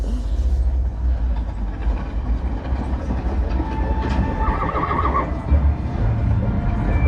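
Horses whinny over the steady rumble and clatter of a moving train, fairly loud and continuous, with no talking.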